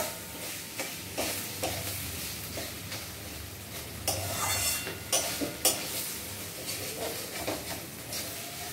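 Washed Gobindobhog rice is stirred with spices in a pan for chal potol. A spoon scrapes and clatters in repeated bursts over a low sizzle, fairly quiet and close, with no talking.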